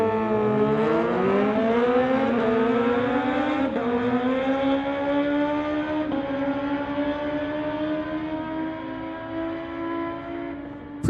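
A street-legal drag racing car accelerates hard down the strip, its engine note climbing steadily in one loud, sustained pull that fills the clip with no talk over it.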